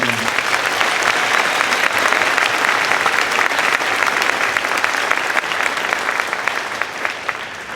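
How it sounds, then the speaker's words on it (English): Sustained, loud applause from a large audience at an 8th grade celebration, steady clapping that continues throughout and tapers only slightly at the end. "let's give them a big round of applause"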